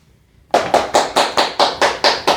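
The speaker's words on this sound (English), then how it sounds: "You may now applaud." After a short silence, eight sharp claps follow at an even, steady rhythm, loud and close, with nothing else heard.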